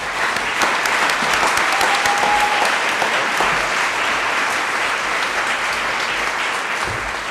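An audience at a college day event gives sustained, loud applause to welcome the college president, with dense clapping continuing throughout.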